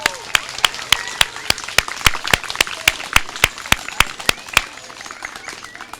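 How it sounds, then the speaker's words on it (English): Sparse, slow hand claps from an audience at a fourth grade graduation ceremony, a steady run of sharp separate claps rather than a full ovation, with faint background murmur. "Please join me in giving Mrs. Rad's class a round of applause."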